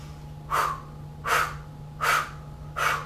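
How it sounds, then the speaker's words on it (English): Four slow, audible breaths in and out, each a soft airy rush of a yoga cleansing breath spaced under a second apart, close up over a faint steady hum. "To start, you do 1 cleansing breath in and out"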